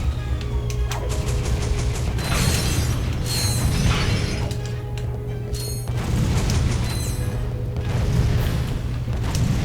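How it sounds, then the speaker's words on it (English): Bomb gloves being lobbed at Megacore robots in Ratchet & Clank 2: Going Commando, setting off repeated loud booms and shattering crashes over a constant mechanical rumble in the game. "Let's just keep throwing bomb gloves over you."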